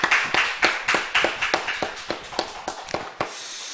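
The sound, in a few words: applause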